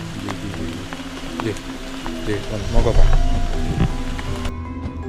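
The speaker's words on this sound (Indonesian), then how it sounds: "karena ini kondisinya sedang hujan, jadi kita akan melanjutkan diskusi ngobrol kita di rumah aja" Steady rain falls on an outdoor excavation site where a buried temple gateway and Kala statue are being dug up, a continuous close patter under brief talk from people nearby.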